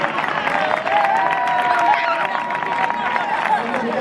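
A crowd claps and cheers in a sports hall at a youth under-12 football tournament awards ceremony, loud and sustained, with a babble of voices and an announcer's amplified voice over it.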